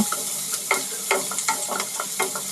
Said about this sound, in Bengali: সবগুলো আবার একটু নেড়ে ব্রাউন কালার করে নিব।